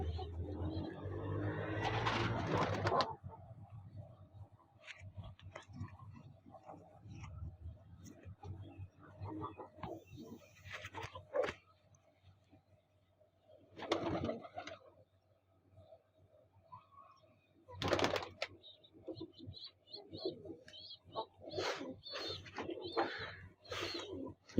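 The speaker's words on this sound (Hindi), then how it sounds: "ये जी बहुत अच्छा कबूतर है।" Sona Teddy pigeons, a Pakistani fancy breed, give soft low cooing calls in short separated bursts amid quiet pauses, fairly near, with a voice briefly audible.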